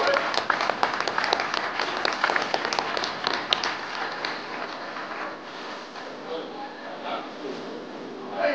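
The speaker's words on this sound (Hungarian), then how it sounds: "egy hatalmas tapsot a lányoknak!" An audience applauds bikini competitors at a fitness contest. The dense clapping is loud and lively at first, then gradually thins and fades, with a voice speaking over it.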